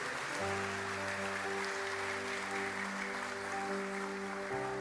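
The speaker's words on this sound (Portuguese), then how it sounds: "Eu gostaria que você aplaudisse o nome de Jesus mais uma vez essa noite." A large church congregation applauds steadily and loudly, with organ-like sustained music tones playing underneath throughout.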